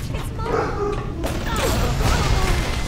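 Grenade blasts go off in BioShock Remastered as a few muffled booms and crashes, loud and close, with someone talking over them.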